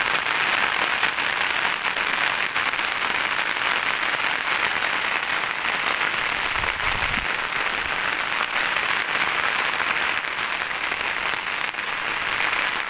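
Torrential rain pours over farm fields in Mangrol taluka, Junagadh district, during a cloudburst, making a loud, dense and unbroken hiss that continues the whole time, with no talking.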